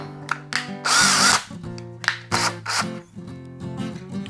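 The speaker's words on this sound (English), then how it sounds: "Get my drill." Power drill driving into a wooden wall stud while installing a guitar wall mount: several short, loud whirring bursts with a rising pitch, including one longer grinding run, separated by brief pauses, very close.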